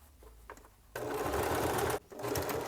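A sewing machine runs a long top stitch in two loud, steady bursts, the first lasting about a second and the second following a brief pause, with quiet handling before them.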